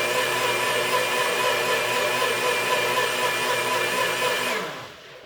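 A Nutribullet 900 Pro blender runs steadily at high speed, a close, even motor drone that winds down and cuts off near the end, with no one speaking.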